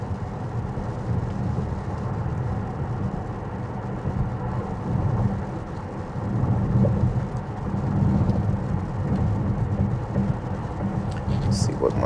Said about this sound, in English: And here we go, it starts raining.